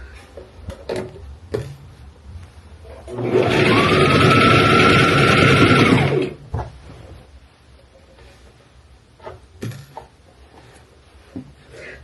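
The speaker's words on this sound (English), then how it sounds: "Once you get back to the seam, you know that you're done sewing your sleeve" A domestic sewing machine stitches an abaya sleeve seam in a steady, close whir lasting about three seconds, with quiet handling clicks and rustles before and after.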